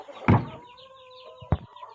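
Rhode Island White chickens let out of their coop, with two short, loud knocks or thumps and a soft clucking between them.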